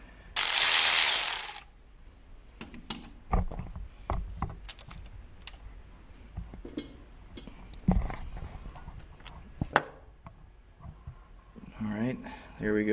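A ratchet works loose the starter bolts on a 1998 Mitsubishi Mirage with a 4g15 engine, giving scattered quick clicking bursts and tool knocks close up, with a loud hiss near the start.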